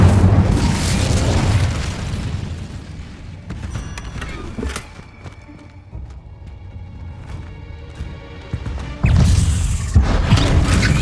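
An incendiary fire spell in the Hogwarts Legacy video game erupts in loud booming bursts, one at the start and another near the end, with crackling, rumbling effects trailing between them.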